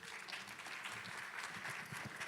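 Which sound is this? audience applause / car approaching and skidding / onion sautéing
audience applause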